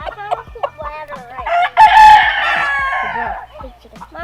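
A big hand-raised rooster on a homestead farm crows loudly and close by, one full drawn-out cock-a-doodle-doo rising out of a run of clucks and short calls, with hens clucking around it.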